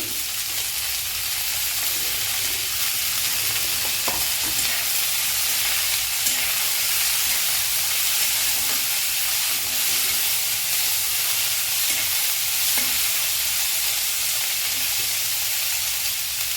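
Radish leaves stir-fry in a pan with browned onion, making a constant hissing sizzle with faint scraping and stirring, steady and close with no talk.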